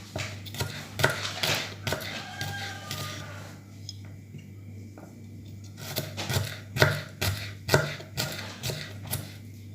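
Shallots are sliced with a knife on a cutting board in a Balinese home kitchen, sounding as quick, close, rhythmic chopping taps in bursts, with a brief pause partway through and a steady low hum underneath.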